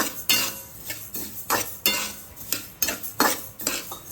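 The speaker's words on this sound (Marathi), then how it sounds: "जिरं पण भाजून निघेल याच्यामध्ये छान" Flax seeds and cumin are dry-roasted in a pan, with a regular rhythm of loud metallic scrapes and clinks as a spoon stirs the seeds, and only a little sizzle underneath.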